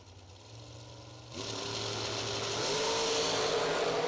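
Drag racing dragster engines idle side by side in pre-stage with a steady low rumble, then a second engine joins and the combined drone grows louder and fuller, no voices.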